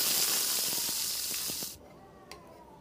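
Green chillies fry in hot oil with a loud, dense sizzle that cuts off abruptly partway through, leaving faint kitchen noise and a small clink.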